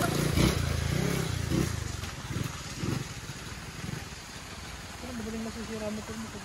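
Small motorcycle engine revving on a mountain road at night, several rising bursts of revs up close while people talk over it.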